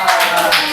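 A class of sixth-grade schoolchildren clapping hands together in a short burst of applause, dense and close.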